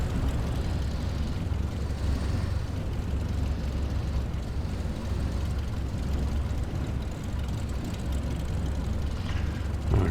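Light bush plane in Botswana, its engine idling before takeoff from runway 08 on a bright day: a steady, continuous low drone with a faint propeller throb, holding level throughout with no talk.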